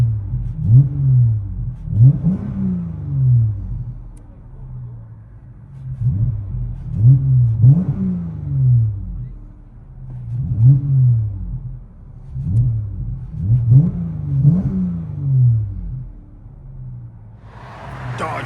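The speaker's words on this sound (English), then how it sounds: "Dodge Charger all-wheel drive V6 with FLO 409 mufflers and rear delete." A 2013 Dodge Charger AWD with a 3.6L V6, FLO 409 mufflers and rear delete is revved repeatedly, with about six loud rhythmic bursts and deep rumbling between them, heard close up with no talk.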